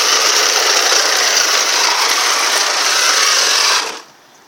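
A 4x4 remote control car drives past with a loud, high, buzzing electric whine that holds steady for several seconds and then cuts out abruptly to near quiet.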